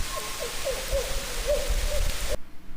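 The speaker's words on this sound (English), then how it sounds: "Rick just said on chat that barred owls are not, they don't go to Sierras for some reason" A series of soft owl hoots repeats steadily against a rustling, close-up background inside a tent, then cuts off abruptly near the end.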